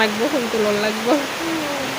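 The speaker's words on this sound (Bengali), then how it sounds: "বৃষ্টিটা কমেনি" Steady rain hisses and patters as a broad, even wash of noise throughout, with a voice talking over it in the foreground.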